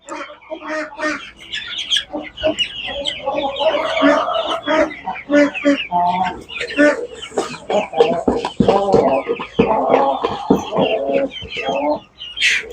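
Chickens clucking around a feeder on a chicken ranch, a busy chorus of overlapping clucks and squawks from several birds, close and lively, continuing throughout.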